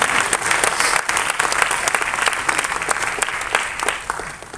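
An audience at a music audio and trailer launch event claps in sustained, dense applause, loud and steady throughout with sharp individual claps cutting through, easing off slightly toward the end.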